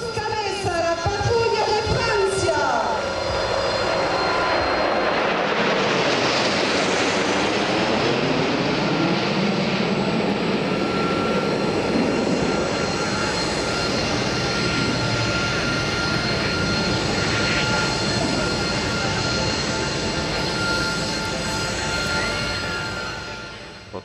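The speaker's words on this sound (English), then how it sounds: "This is the Patrouille de France with 8 Alpha Jets advanced jet trainers" Alpha Jet advanced jet trainers of the Patrouille de France fly overhead at an air show, a long continuous jet roar that swells and holds, then fades away at the end.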